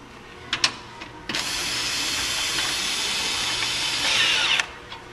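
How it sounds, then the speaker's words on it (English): A cordless drill cranking a camper trailer's stabilizer jacks (Forest River R-Pod RP182G) whirs steadily for about three seconds after a few short clicks, close by, with a brief pitch shift near the end before stopping. "What a lot of people do is they'll get a cordless drill."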